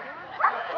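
A Jack Russell terrier gives one short, sharp bark or yip midway through a brief moment, heard under someone speaking.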